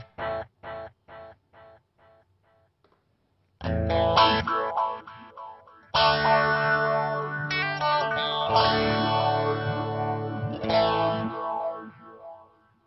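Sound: guitar through lo-fi delay effect

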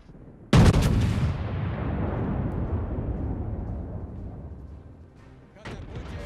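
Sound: naval gunfire from the Scharnhorst battleship, World of Warships video game

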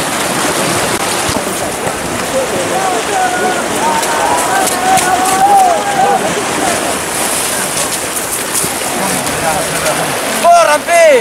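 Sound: water flowing down irrigation canal (acequia) after release

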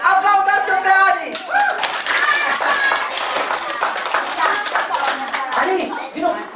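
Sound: audience clapping and applauding a child performer

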